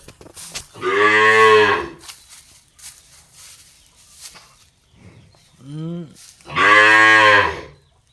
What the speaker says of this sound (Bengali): ষাঁড় গরু